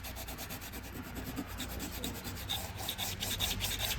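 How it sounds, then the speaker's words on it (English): Grime being scrubbed and rubbed off Porsche 911 SC parts, a steady close-up rasping and scraping that continues without pause and grows slightly louder toward the end, with no voices. "just still cleaning it up, so it's getting there. Just trying to get most of this off before we give it a little bit of a scrub up"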